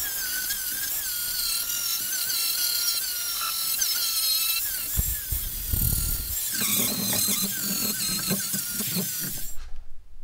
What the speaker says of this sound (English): that flapper disc makes a heck of a lot quicker work of a grinding wheel